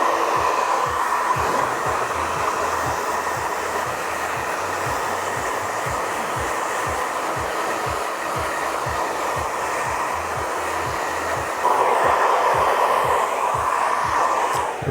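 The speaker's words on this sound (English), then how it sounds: "I'm just going to dry off the back and sides because I'm working with the clippers." A hair dryer blows continuously up close while drying a man's hair during a clipper haircut, a steady loud whooshing roar with a faint regular thumping underneath and a slight shift in tone toward the end.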